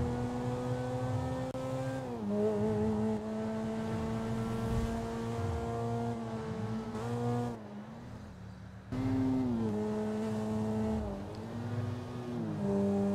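A Ferrari F12 sports car in GTA V drones along with a steady engine tone that shifts pitch through gear changes, briefly dropping away before revving back up, heard alone and fairly close.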